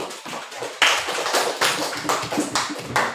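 A classroom of students claps hands together, a quick series of sharp, fairly close claps in uneven bursts with no speech over them.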